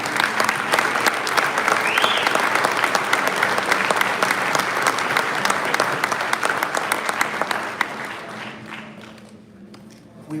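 A crowd at a Hot Wheels collectors nationals event breaks into sustained applause, dense and fairly loud clapping that runs about eight seconds before thinning out and fading away.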